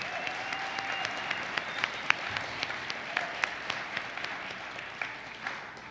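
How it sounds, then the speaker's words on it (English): Crowd applause at a Friday night Home Craft Days concert honoring the ProArt partners, a dense, even wash of many hands clapping at moderate distance with a few sharper claps standing out. "please give ProArt a big round of applause"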